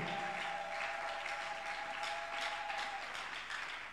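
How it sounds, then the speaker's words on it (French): A church congregation applauding during a French and Lingala sermon, a steady dense wash of clapping that runs through the whole stretch at moderate loudness, with a faint held tone beneath. "Est-ce que tu peux applaudir le Seigneur?"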